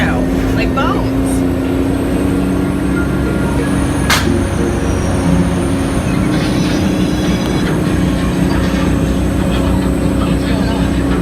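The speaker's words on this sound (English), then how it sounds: "It does reset every 45 seconds, just in time for a new tram to drive right off through." A Universal Studios tour tram rumbles through an earthquake effect, a loud continuous mechanical roar and rail-like drone with a brief sharp clank, while people talk over it.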